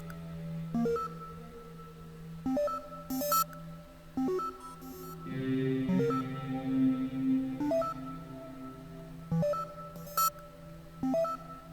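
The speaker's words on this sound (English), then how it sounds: "So it beeps one of any of the 6 notes in the scale," Synthesized beeps pick random notes from a six-note whole tone scale, short clean tones in a sparse irregular pattern, with a brief sustained denser passage midway; quiet and alone.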